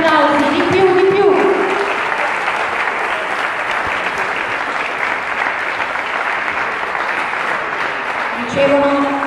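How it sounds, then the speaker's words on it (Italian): A crowd claps steadily at a national women's artistic gymnastics championship in Cattolica, continuous applause lasting throughout, with an announcer's voice over it at the start and again near the end. "vogliamo sentire i vostri applausi"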